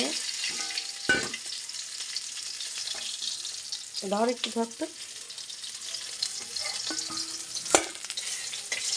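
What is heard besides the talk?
fish frying in a pan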